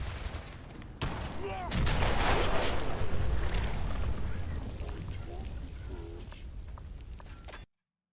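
Explosion in the game Wasteland Warrior: a sudden loud boom with dense rumbling blast noise that holds for several seconds before cutting off, with sharp gunfire-like cracks mixed in and no talk over it.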